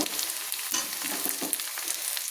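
Capsicum tossed into a pan of fried onions crackles and sizzles steadily, close up, with small popping spatters and stirring noises over a constant frying hiss.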